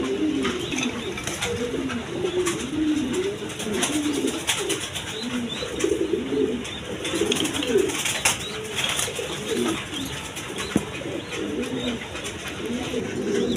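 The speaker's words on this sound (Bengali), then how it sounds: "আর কবুতর কোয়ালিটি সম্পন্ন আল্লাহর রহমতে" Domestic pigeons coo continuously at a breeding loft, several birds overlapping in soft, rolling low calls that carry on steadily, close and fairly loud, with no clear talk.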